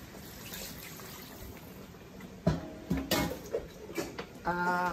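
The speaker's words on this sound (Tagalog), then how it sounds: "Lagyan po siya natin ng tubig." Water is poured into a container holding pork marinating for asado, a light trickle building into bubbly splashing and filling sounds in short bursts toward the end, heard close with no talk.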